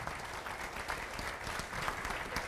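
An audience at the Saints Hall of Fame induction ceremony applauds for the inductee's wife, Casey: dense, steady clapping from many hands that holds at an even level throughout with no voices over it.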